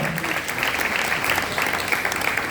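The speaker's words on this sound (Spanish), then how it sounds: "denle un aplauso al Señor" Church congregation applauding during a Spanish-language sermon, a dense, steady wash of many hands clapping together at moderate distance, continuing without a break.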